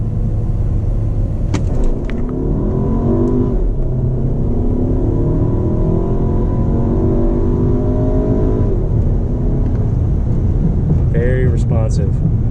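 A 2014 Volkswagen Passat TSI SE with a turbocharged engine pulls hard in first gear in manual mode, its engine rumbling steadily and loud from inside the cabin, with a voice talking over it.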